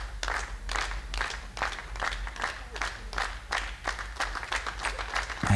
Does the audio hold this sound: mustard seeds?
no